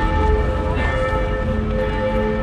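A church bell gong in the Pokémon GO video game signals a raid start, a sustained ringing tone holding steady over a busy low background, with no talking.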